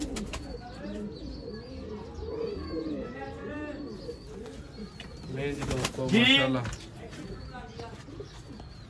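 Soft, repeated coos from Sialkoti Kamat pigeons murmur through the background while someone talks over them, with a louder burst of activity near the end.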